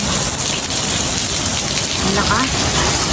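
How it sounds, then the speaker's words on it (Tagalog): Heavy rain mixed with small hail pours down close by in a dense, steady roar. Faint rumbling suggests a thunderstorm, and no one speaks over it. "kalakas ng ulan"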